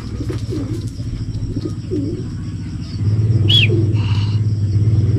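Pigeons cooing at a pigeon race toss, low repeated coos over a steady rumble, with a few higher chirps and whistles mixed in and the background getting louder partway through.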